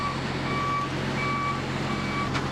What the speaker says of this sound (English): This is one of their trucks.